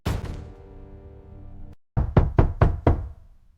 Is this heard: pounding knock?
yes